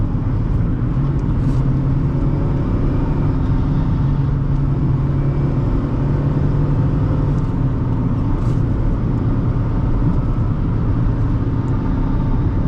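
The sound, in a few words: 2008 Honda Fit driving, accelerating and shifting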